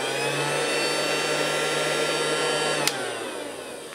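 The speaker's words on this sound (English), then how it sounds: "there's a little on-off switch that controls the suction motor" Casdon Little Helper toy Dyson Ball vacuum cleaner with its suction motor running, a steady close whirring hum that stays level, ending in a brief click, with no voices.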